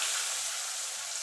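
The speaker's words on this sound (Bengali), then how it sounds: "আলুটা একটুখানি ভাজা ভাজা করে নেব।" Diced potato frying in hot oil tempered with black cumin makes a soft, continuous sizzle without pause, fairly quiet and with no talking.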